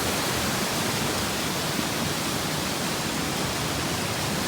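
Rushing water of the Indreni Waterfall near Lamahatta, Darjeeling, a loud, dense, continuous roar with no pauses and no voices.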